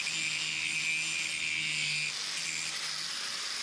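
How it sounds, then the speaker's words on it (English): A steady, high-pitched grinding whine of a power tool against the steel of an old hatchet, continuous and close, easing slightly partway through. "While we're grinding away, I'm going to point out those little bursts you can see at the end of these sparks."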